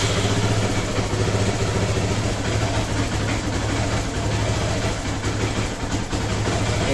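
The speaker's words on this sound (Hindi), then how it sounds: "और अभी आपको बाइक स्टार्ट करके दिखाने वाला हूँ।" Hero Honda Karizma R motorcycle engine idling steadily after carburetor cleaning and setting, a loud, close, continuous low throbbing with a constant rhythmic pulse and no talk.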